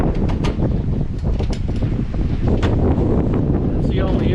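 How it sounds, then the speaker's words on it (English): Strong wind blowing through a shed and its small grate, heard as a continuous, loud, low rumbling roar with gusty buffeting right at the microphone throughout. "how hard this wind's blowing"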